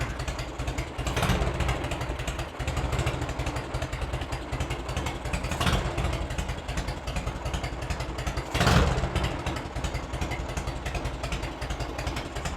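A 1986 Harley-Davidson Heritage Softail with an Evolution engine runs steadily in its first start in years. The low, rumbling engine sound is loud and constant, with a few brief swells in revs.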